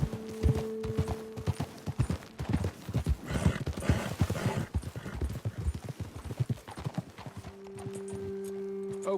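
Horses gallop at a steady pounding clip-clop in the Red Dead Redemption 2 video game, hooves drumming loud and close throughout, with a brief whinny and no talk.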